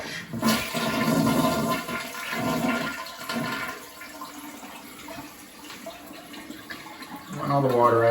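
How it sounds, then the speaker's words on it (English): A Niagara Stealth toilet flushes to empty its tank: a rushing gurgle of water swells close by, then drains away to a softer trickle, and a voice begins talking at the end. "we're going to flush the toilet to get the water out"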